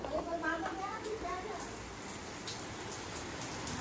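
Heavy rain pours steadily outdoors as a hiss across the whole clip, with faint voices and a brief higher call near the start.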